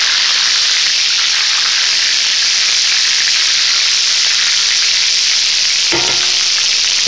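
Food frying in a pan, a steady bright sizzle throughout, with a brief clatter near the end as the pieces are flipped over.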